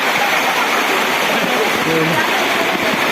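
Rainwater rushes down the rocky slopes of Girnar mountain near Junagadh during a downpour, a steady, loud, broadband roar of flowing water filling the whole stretch without a break.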